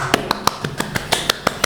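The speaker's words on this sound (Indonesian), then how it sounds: "Silakan Bu Cindy datang kemari, tepuk tangan." Close, sharp claps from a small podcast audience welcoming a guest, about ten crisp hits spaced evenly in a quick, steady rhythm.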